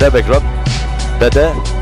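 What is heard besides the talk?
None of the usual background noises is heard.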